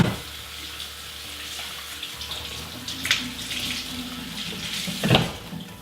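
Tap water runs steadily into a sink as leeks are rinsed beneath it, a close, continuous splashing that swells briefly near the end.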